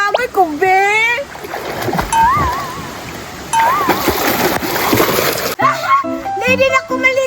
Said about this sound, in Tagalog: Langoy-langoy ko, be!